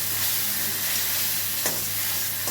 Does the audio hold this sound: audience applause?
no